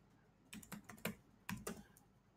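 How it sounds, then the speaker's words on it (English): A password is typed on a computer keyboard: a short run of about ten quiet, close key clicks in two quick clusters, with nothing else heard. "I will type NetRocks."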